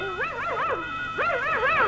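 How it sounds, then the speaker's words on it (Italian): A cartoon toolbox barking and howling like a dog in an animated production, a continuous wavering yowl of short rising and falling calls, loud and close. "animare degli oggetti, come una cassetta degli attrezzi che abbaia"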